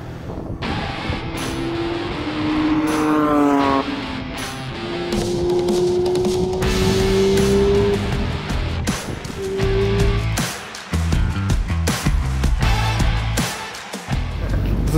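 A race car on a track during a Dream Racing drive, its engine loud and close, climbing in pitch through repeated surges of acceleration with brief drops between gears.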